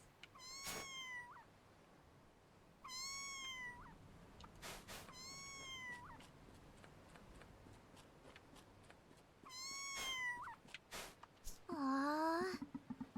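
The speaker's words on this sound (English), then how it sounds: "I hear cat." A cat meows repeatedly, with about five drawn-out, rising-and-falling calls spaced a few seconds apart, close and clear, with soft rustling and handling noises between them and a final louder, strained yowl.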